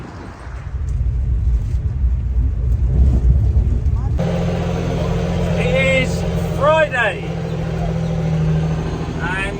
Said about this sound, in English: I'm driving a cat dump truck